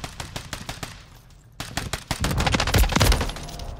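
Light machine gun fire in Call of Duty Modern Warfare III on the Rust map, rapid sharp bursts of shots, sparser at first, then a dense, louder stretch of sustained automatic fire.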